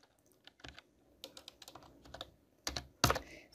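Keystrokes on a computer keyboard while typing Python code, a series of nearby clicks in uneven bursts with two louder hits near the end.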